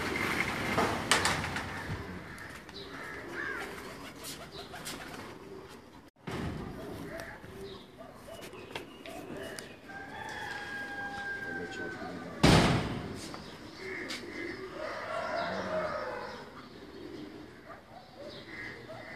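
Pigeons coo inside a rooftop cage, soft repeated calls under steady background noise and people talking, with a couple of sharp knocks or slams along the way.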